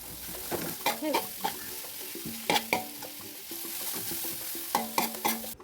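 Onions sautéing in coconut oil for a beef curry with raw banana, a steady sizzle broken by several sharp scrapes and clinks of a spoon stirring the pan, close and moderately loud, no talking.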